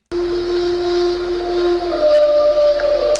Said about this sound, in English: Now look at Daniel's truck stop howl. Listen to it again.